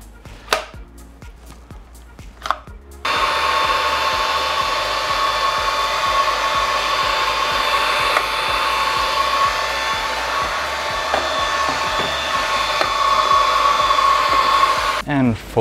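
A Xiaomi Dreame V9 cordless vacuum in handheld mode switches on after a few quiet seconds of handling, then runs with a loud, steady high-pitched whine and airy motor roar before cutting off near the end.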